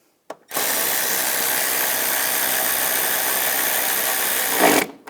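A power tool runs steadily on bolts during heater core work on a Chevrolet Equinox, one continuous loud whir of about four seconds with a brief surge just before it stops, heard alone without talk.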